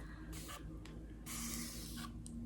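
Quiet, close spritzes from a spray bottle wetting curly hair, a few short bursts and one longer hiss of mist over a soft background hum.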